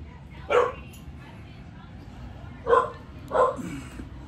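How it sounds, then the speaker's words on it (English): A dog barks three times close by in a home, one bark and then a pause before two more in quick succession, over a low background hum. "I wonder what she's barking at."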